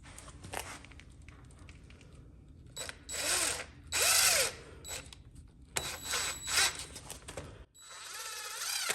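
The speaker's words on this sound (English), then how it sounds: "Now I just gotta add these 2 screws." Power drill driving panhead screws into the wooden frame of a mobile chicken tractor, several short whirring bursts rising and falling in pitch, close and fairly loud, separated by quiet handling noise.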